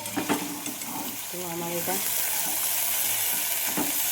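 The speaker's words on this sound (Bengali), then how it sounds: "শুধু নুন দিয়ে পোস্ত দিয়ে ভাজা হবে।" Poppy seeds fry with nothing but salt in a pan, giving a steady close sizzle and hiss that builds and holds, with some stirring and a brief spoken phrase early on.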